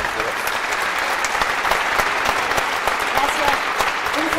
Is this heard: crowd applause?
yes